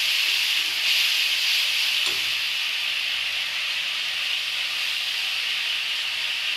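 Spice paste for aloo dum sizzles as it fries in a hot pan with whole cumin, a steady, close, fairly loud hiss that holds evenly throughout with no talk.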